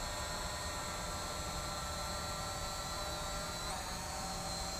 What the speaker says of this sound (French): Voilà, donc le drone va se positionner à un point.